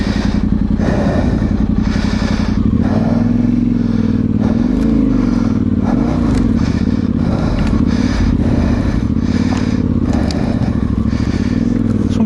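Yamaha Tenere 700 motorcycle riding off-road, engine thrumming loudly up close with rising and falling revs, scraping and clattering as branches and terrain brush the bike.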